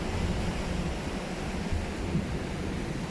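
Sea waves wash onto the shore in a steady, unbroken rush of surf, moderately loud and mixed with some wind noise, with no one speaking.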